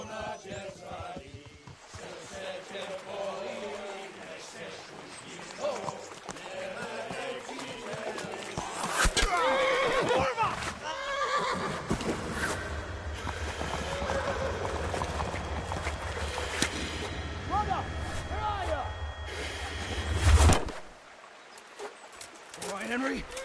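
Horses in the video game Kingdom Come: Deliverance clip-clop and whinny amid shouting voices and game ambience, with a louder rumble building toward the end.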